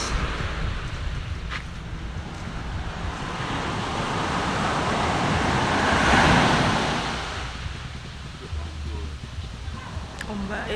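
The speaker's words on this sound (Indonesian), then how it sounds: "Ombaknya gede." Ocean waves surging onto the shore at Blimbing Sari beach, a steady broadband roar that swells louder near the middle and then eases back, with a faint hint of passing traffic in the background.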